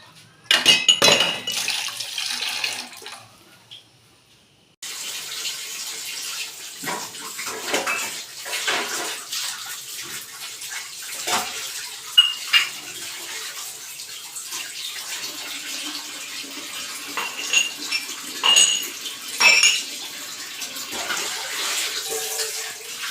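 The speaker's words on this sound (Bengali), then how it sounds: "কিছু বাসন আছে ওগুলি ধোবো।" Dishes get washed under a running kitchen tap, with steady water flow and scattered clinks of utensils and pots throughout, after a short burst of louder noise at the start.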